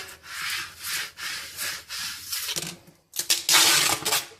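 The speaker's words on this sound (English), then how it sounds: "take your squeegee, rub the decal down" A squeegee rubbing firmly over a vinyl decal and transfer tape, close and loud in repeated back-and-forth strokes, a brief pause, then a faster, harsher burst of scraping.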